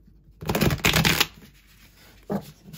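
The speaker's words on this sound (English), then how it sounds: "doing a couple shuffles there" Crisp riffling and flapping of tarot cards in a couple of bursts, close up, followed by a brief soft tap.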